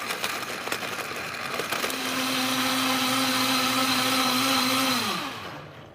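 A Vitamix Professional Series 750 blender runs a smoothie program on fruit and ice. A coarse grinding start gives way to a loud, steady high whine, which then winds down and stops on its own, with no talking.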